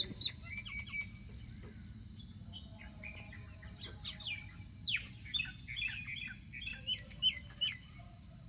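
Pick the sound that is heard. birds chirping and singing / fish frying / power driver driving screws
birds chirping and singing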